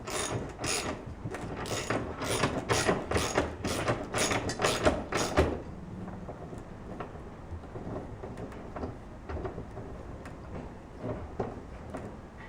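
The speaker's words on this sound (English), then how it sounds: "it's normal to hear a little bit of splitting. That's fine, that's just the teeth digging in." A ratchet clicks in quick repeated bursts while a rig mount is tightened onto wood, then stops, followed by quieter creaks and sharp little cracks as its teeth dig in and the wood splits slightly.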